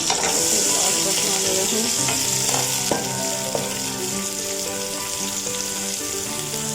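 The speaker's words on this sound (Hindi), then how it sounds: "इसके साथ ही डाल देंगे हम ये प्याज, जिसको मैंने स्लाइस में काट लिया है।" Steady, loud sizzling of sliced onions frying in hot oil, with occasional stirring clinks and scrapes, no talking.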